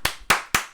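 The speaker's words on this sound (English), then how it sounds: "Round of applause" A few sharp hand claps in even rhythm, close and crisp, applause for a live show's crew, too brief to build into a crowd.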